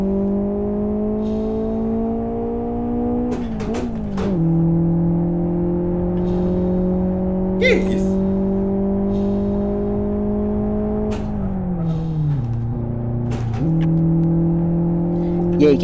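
Car engine in the Live for Speed racing game holding a steady tone through gear changes, with a few dips and rises in pitch as the revs shift, loud and close, with people talking over it.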